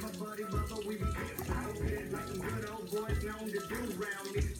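Lime juice pours into a chicken fajita marinade, a steady splashing, gurgling liquid stream heard up close, with a voice talking at times over it.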